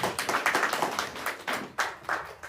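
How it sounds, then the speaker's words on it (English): A small audience claps to welcome a newly introduced guest during a live-streamed talk: a modest, fairly quiet patter of distinct hand claps with uneven rhythm that swells and fades in short bursts. "Let's give him a round of applause."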